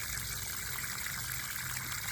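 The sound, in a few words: pouring water-soluble fertilizer solution into container garden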